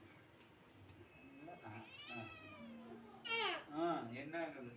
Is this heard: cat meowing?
yes